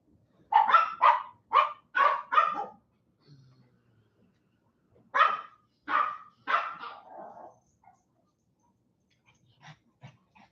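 A pet dog indoors barks in two quick bursts of repeated sharp barks separated by quiet, fairly close, with a few faint yips at the end.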